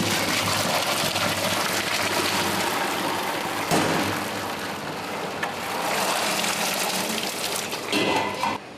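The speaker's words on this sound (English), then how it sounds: "we're ready to drain them off" Water from a pot of boiled roast pumpkin ravioli being poured off to drain, a continuous close rushing pour that carries on steadily with no talking.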